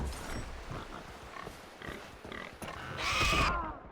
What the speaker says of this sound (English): Pigs attack me.